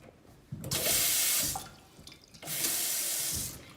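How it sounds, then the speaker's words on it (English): Kitchen mixer tap running hot and cold water into a double basin sink, two loud steady bursts of gushing flow separated by a brief pause, close by with no talk. "The tap has been tested and is working correctly with good water pressure from both hot and cold"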